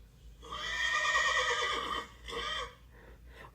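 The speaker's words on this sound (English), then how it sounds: "That is a horse." A single horse whinnies loudly and close up in one long, shaky neigh, followed by a shorter second call, then quiet, with no talking over it.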